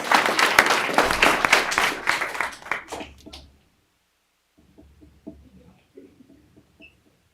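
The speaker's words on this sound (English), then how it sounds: "let's give a big round of applause for your 2023 Varsity Volleyball City Champions" Loud applause from a crowd at a school board meeting for a varsity volleyball championship team, dense clapping that fades out after a few seconds, then a quiet room with faint scattered noises.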